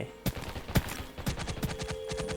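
Several sharp gunshots ring out in the survival shooter Undawn, with a few spaced cracks followed by a faster burst of rapid fire. The shots are moderately close over low background noise.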